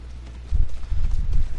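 Hooves of a horse galloping in Assassin's Creed Odyssey, a quick run of low thudding beats that starts abruptly after a short quiet lead-in.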